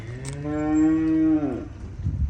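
A cow at a cattle market gives one long, loud, close moo that holds steady for over a second before tapering off, followed by faint market background.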